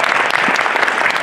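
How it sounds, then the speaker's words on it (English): Loud, dense applause from a convention panel audience, many hands clapping together continuously and close, briefly filling the hall. "Everybody, give Jason a round of applause."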